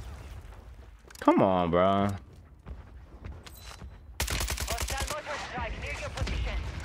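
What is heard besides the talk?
mortar strikes and gunfire in video game Warzone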